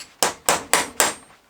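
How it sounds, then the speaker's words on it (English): A hammer taps the metal body of a Lucas M35J starter motor four times in quick succession, sharp, close metallic knocks with short decays between them. "Just give the body a bit of a tap."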